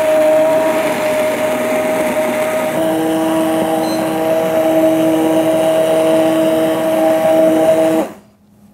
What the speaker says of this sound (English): Now you just grab an immersion blender.